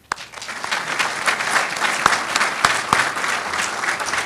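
An audience applauds at a groundbreaking ceremony for a university medical academic building, with steady, full clapping that rises quickly and holds for about four seconds with a few sharper individual claps.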